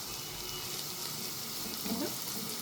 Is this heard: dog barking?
no